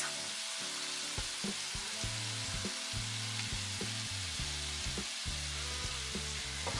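Soy seasoning and sweet chili sauce hitting a hot pan, a loud continuous sizzle and hiss with repeated clatters of stirring throughout, no talking.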